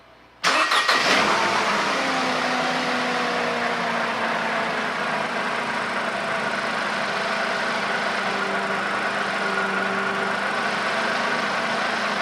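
A Mercedes SLK230 engine cranks and catches after a moment of silence, then settles into a steady, loud idle that hums on close by without any voices.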